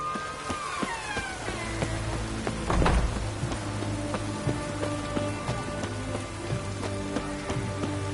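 Steady rain falls on surfaces in The Witcher 3: Hearts of Stone, a continuous patter of drops with scattered tapping accents and a brief louder swell midway, with no voices.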